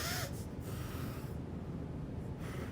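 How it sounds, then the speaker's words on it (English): A person clears their nose with a sharp snort at the start, followed by quieter breathy nasal sniffs and exhales, close and alone. "I'll clear my nose."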